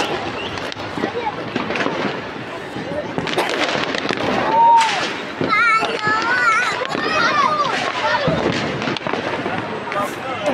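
New Year firecrackers and fireworks pop and crackle through the night, with a continuous spray of bangs and whistles and children and adults talking and shouting over them.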